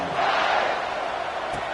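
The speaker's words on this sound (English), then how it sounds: "this crowd is buzzing after that last score" A football stadium crowd at a Texas vs Alabama game roars in a dense, continuous wash of cheering and voices after a score, loud and unbroken throughout.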